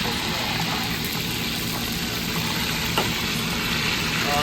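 Dark meat chicken frying in sizzling oil, a steady broadband hiss and crackle that runs the whole time, close and even, with a faint low hum beneath.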